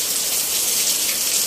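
Heavy rain pours steadily, a dense, loud hiss of falling water and drops striking surfaces that fills the whole stretch with no voices.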